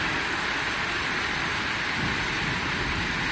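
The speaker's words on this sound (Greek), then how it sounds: "όπως βλέπουμε, βρέχει τώρα." Heavy, steady rain from a thunderstorm in Athens, Greece pours down in a constant dense hiss, with low thunder rumbling underneath; no voices.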